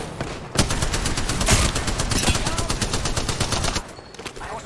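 Sustained automatic gunfire in the video game Apex Legends, a loud rapid stream of shots lasting several seconds before cutting off.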